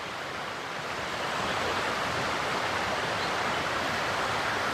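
A muddy, swollen river at a campsite rushes past in a steady broadband roar, close and continuous, with no voices over it.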